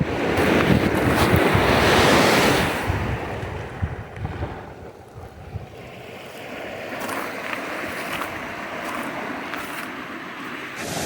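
Ocean surf breaking along a pebbly Gaspésie shoreline, a steady loud wash of waves with wind buffeting the microphone, swelling strongest early then settling into a continuous rushing roar.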